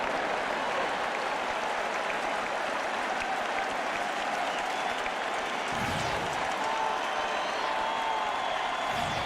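Baseball stadium crowd at a 2010 NLCS playoff game between the Giants and Phillies, a steady loud roar of cheering and applause with a full count on the batter, continuous and broad.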